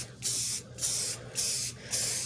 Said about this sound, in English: you're going to coat with your spray paint